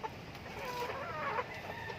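Chickens clucking and murmuring steadily, several birds close by, a continuous flock chatter with no other sounds standing out.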